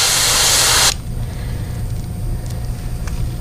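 An airbrush spraying black paint onto a yellow perch fishing bait gives a loud steady hiss for nearly a second before cutting off abruptly, leaving quiet low room noise behind.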